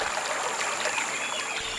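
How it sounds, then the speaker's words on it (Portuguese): Water of the Pardo river flows in a steady, soft rushing hiss with faint trickling detail and no voices. "Nós precisamos sentir o rio, o barulho da água."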